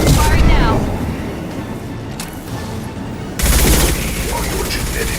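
Weapons fire in Mass Effect 2, loud bursts of gunfire with dense noisy blasts that ease off and then surge back in strongly, with voices present in the mix.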